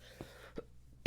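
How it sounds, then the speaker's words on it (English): A few short coughs and throat-clearing bursts from a sick man, two soft ones followed by a louder, sharper cough at the end. "So I might cough a bunch like that."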